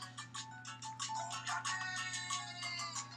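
A phone plays a repeating, rhythmic electronic chime pattern, bright and fairly close, over a low steady hum.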